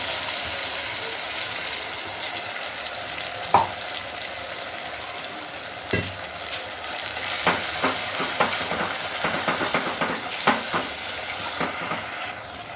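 Masala frying with softened tomatoes in oil for a spicy bangda mackerel curry, a continuous close sizzle broken by repeated scraping and clacking of a spoon stirring the pan, no voices.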